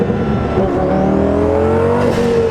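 A 2006 Lamborghini Gallardo twin turbo accelerating, a loud, steady engine roar with rising tones as revs climb, heard from inside or close by with no talking.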